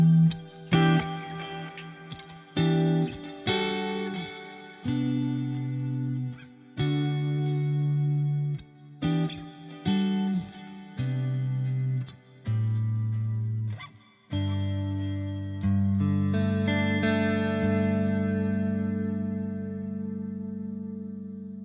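Electric guitar with a clean tone played through an effects unit with chorus and echo: a sequence of ringing chords and single notes, some cut short and others sustained, played alone with no talk.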